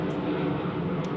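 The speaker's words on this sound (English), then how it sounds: "that is the loudest plane ever" A very loud airplane flying overhead near Yosemite, a steady, close, droning engine rumble filling the short stretch without pause.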